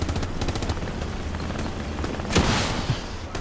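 Machine gun fire in the World War II shooter Hell Let Loose, rapid rhythmic bursts of repeated shots at moderate distance, steady over a few seconds with a louder impact near the end.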